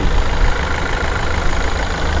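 The 1.5-litre Skyactiv diesel of a used Mazda 2 idles in its open engine bay, a loud, steady low rumble heard up close with no talk.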